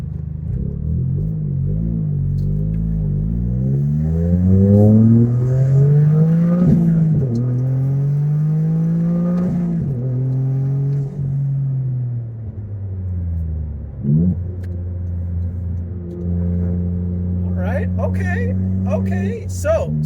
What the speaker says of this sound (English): let's go ahead and see how this sounds at wide open throttle